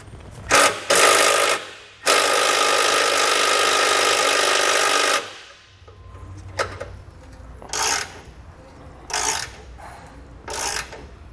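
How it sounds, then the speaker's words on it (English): Exhaust hanger bolts on a 2015 Nissan Xterra being backed out with a 12mm socket on a ratchet: a long steady ratcheting whir after two short bursts, then several brief separate clicking spells, close and fairly loud. "we'll take a 12mm socket and we'll do the best job we can removing those 3 bolts"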